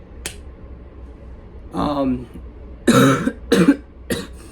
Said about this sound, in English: still have that leftover cough from the illness, flu, whatever